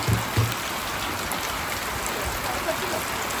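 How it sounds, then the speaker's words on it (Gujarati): Heavy rain falls in a village, a dense, even hiss of downpour with a few low thumps at the very start, steady and close. "ચલો વરસાદ ચાલુ થઈ ગયો"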